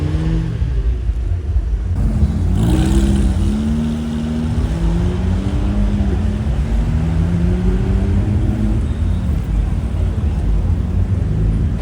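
A Mercedes 300 SL drives past at the Monaco Grand Prix, its engine rising and shifting pitch as it goes by, with loud crowd and street noise all around and voices mixed in.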